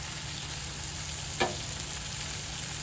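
Smash burger patties sizzle steadily on a hot camp griddle, a close, constant hiss with one brief clink or scrape partway through and no talking.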